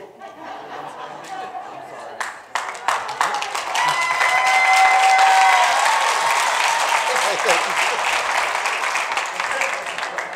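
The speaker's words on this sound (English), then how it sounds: "could I just get a shot of the whole crowd clapping as if they were still up here?" A wedding crowd clapping together on request, scattered claps at first swelling into loud sustained applause with some cheering and chatter, then slowly thinning out.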